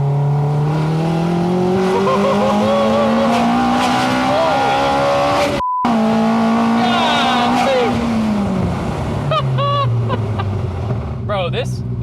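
A Honda mini-truck with a swapped K24 engine revving hard toward 10,000 rpm, a loud, close, screaming engine note climbing and falling across repeated pulls, with brief tire chirps and no talking.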